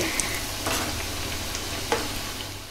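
Onion bhaji fritters sizzling steadily in hot oil as they are stirred and turned, with a few soft scraping taps against the pan and no talking.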